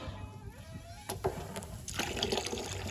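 Water from a pasture water line runs into a pig trough, a steady splashing fill with sharp bursts of spray, fairly close and continuous without talk.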